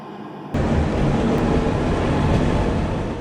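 A steady, loud mechanical rumble of an electric cog railway train on the Gornergrat line from Zermatt starts abruptly and continues evenly, with no voices.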